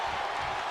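A WWE 2K24 wrestling crowd gives a brief, loud, continuous roar of cheering, a wash of noise with no clear breaks.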